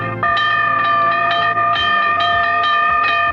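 A train at a railroad crossing sounds a loud, steady multi-tone horn that swells in short repeated pulses, close and continuous throughout.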